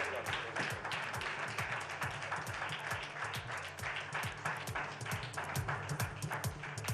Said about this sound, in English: set to the loud, loud applause of every single person in this auditorium.